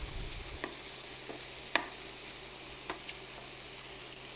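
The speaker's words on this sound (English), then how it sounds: "They're cooking nicely in the pan." Vegetables for a healthy Chinese-style omelette fry quietly in a non-stick pan, making a soft, steady sizzle broken by a few faint clicks and taps.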